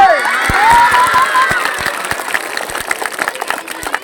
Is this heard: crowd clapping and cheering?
yes